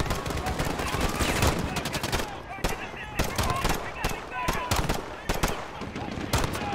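Rapid, loud automatic gunfire in Call of Duty: Modern Warfare, dense shot after shot with short gaps, mixed with a voice in the background.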